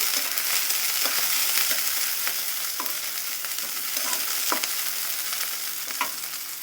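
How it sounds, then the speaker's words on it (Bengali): Black cumin seeds sizzle in a hot pan under a constant frying hiss, with repeated short scrapes and taps of stirring scattered throughout, close and fairly loud. "এখন আধা চা চামচ পরিমাণে আমরা কালো জিরে এটিকে এখন দিয়ে দিব"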